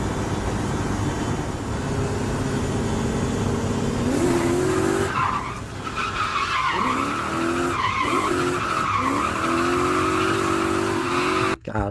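BMW E28 with a V8 swap drifting on a street, the engine roaring loud and close with rising and falling pitch as it is clutch-kicked, and tires squealing in long sustained bursts.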